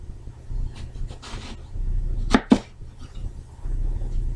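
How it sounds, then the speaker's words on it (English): A big knife cuts the green top off an eggplant on a board, two quick sharp chops close together against a faint, quiet kitchen background. "We're going to cut off the top, for one thing, using our big knife."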